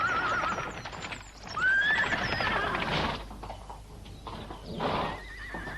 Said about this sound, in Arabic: صهيل خيول.